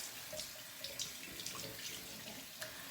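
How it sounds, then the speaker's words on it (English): Warm tap water runs steadily into a sink to soak a rag, a quiet continuous splash with small bursts and no talking. "we're going to wet it with warm water"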